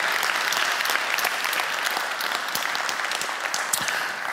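Applause from an audience at a talk about wiki tool writers: dense, steady clapping that holds evenly for a few seconds with no speech over it.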